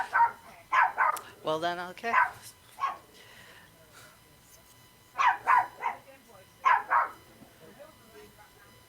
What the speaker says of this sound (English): That dog barking is our outro.